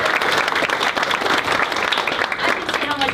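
Applause from an audience at a school culinary challenge event rolls on throughout, a lively, uneven clatter of many hands clapping nearby, with a voice briefly heard near the end.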